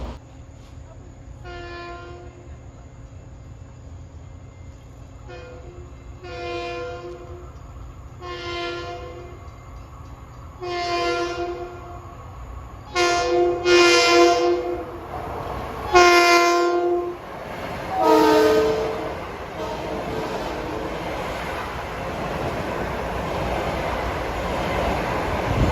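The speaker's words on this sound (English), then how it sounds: "right behind is train 1964, an express from Penn Station to Ronkonkoma" An LIRR express train from Penn Station to Ronkonkoma passes through Farmingdale in the evening rush hour, its horn sounding repeatedly in long blasts that grow louder as it nears, followed by rising rumble and rail noise.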